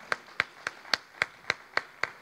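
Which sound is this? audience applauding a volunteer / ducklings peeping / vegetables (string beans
audience applauding a volunteer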